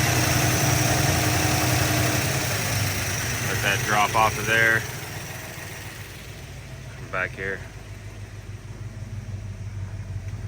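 A car engine idles low shortly after startup, with a steady, even rumble and hum running throughout while someone speaks briefly over it.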